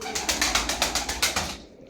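Pigeons fluttering and cooing close by, with a rapid run of about nine rhythmic pulses like wing beats that fades out at the end.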